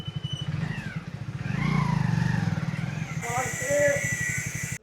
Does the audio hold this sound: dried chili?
no